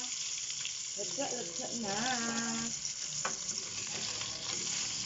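Tilapia fries in a pan with a continuous close sizzle and crackle. A speaker talks briefly over it.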